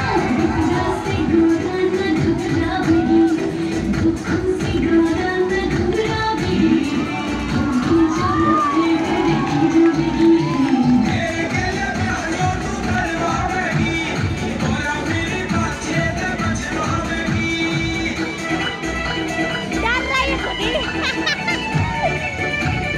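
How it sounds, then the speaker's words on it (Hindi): Dense crowd of devotees at a Mahashivratri Shiv wedding procession, a loud continuous roar of cheering, shouting voices and babble that holds steady throughout, with children's shouts rising over the throng. "और बहुत भीड़ है, इतनी ज़्यादा भीड़ है कि हम क्या बताएं आप लोगों को।"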